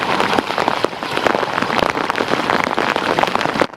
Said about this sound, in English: Perhaps because such a huge amount of rain poured in over a short time, water overflowed from the drains.